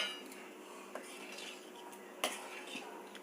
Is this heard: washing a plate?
yes